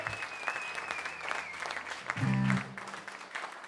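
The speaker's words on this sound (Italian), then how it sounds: "un grande applauso a Stefano e a tutto lo staff" A concert audience at a live show in Sacile, Italy applauds loudly for Stefano and the staff, with dense clapping swelling near the end, while sustained tones from the stage ring underneath.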